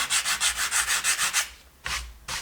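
Rhythmic sanding strokes across a painted stencil surface, about nine steady back-and-forth rubs, then a pause and two more, close and fairly loud with no talking.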